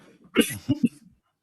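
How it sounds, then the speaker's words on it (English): A short cough burst, two or three quick hacks close to the mic, moderately loud, with no talking around it. "I think I'm catching your"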